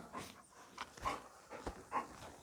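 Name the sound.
dog panting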